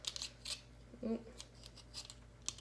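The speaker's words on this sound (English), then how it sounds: "I'm going to peel it." Vegetable peeler scraping along produce during food prep, a few soft broadband strokes, close and faint, in a quiet kitchen with a brief low voice in between.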